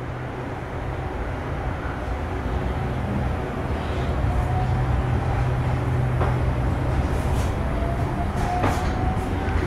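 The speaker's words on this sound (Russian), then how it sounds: "Train is departing." An underground cable train at Moscow Sheremetyevo airport rolls away with a steady low rumble that grows slightly louder, with faint squeaks and clicks from the wheels.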